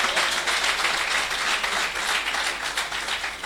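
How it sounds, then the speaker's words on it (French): A church congregation applauds and cheers in worship, with dense, sustained clapping filling the room at an even level throughout. "Acclamons très fort le Seigneur."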